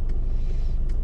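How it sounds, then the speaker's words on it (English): Steady low road rumble from inside a moving car in traffic, a continuous dull engine and tyre drone with no talk. "There's a lot of traffic in there."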